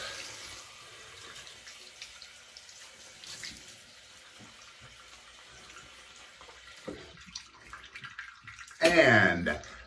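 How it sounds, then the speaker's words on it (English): Cold water runs from a bathroom tap for a rinse after a shave. A steady hiss of running water flows throughout, then a louder splash comes near the end. "Cold water rinse, close the pores."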